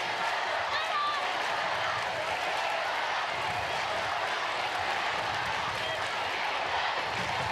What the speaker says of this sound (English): And now the crowd get behind the team.